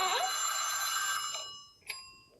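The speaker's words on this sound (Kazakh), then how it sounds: "Телефон соққан Беки дәрігер." A cartoon telephone rings with a bright, sustained metallic bell that fades over about a second and a half, followed by a short sharp tone.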